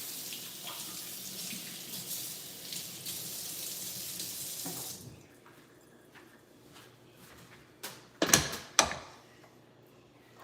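Salad greens rinsed under a running kitchen tap, a steady close hiss of water for several seconds that cuts off, followed by a few clunks and handling knocks at the sink.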